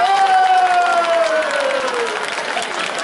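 An outdoor concert crowd at the Ethno Square festival in Berovo applauds loudly as the singer's band members are introduced. The dense, steady clapping is accompanied by a sustained, gradually falling instrumental tone.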